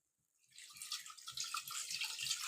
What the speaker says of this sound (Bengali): তাহলে তার জন্য আমি আরেকটু জল দিয়ে দিচ্ছি বাটি দিয়ে একটু জল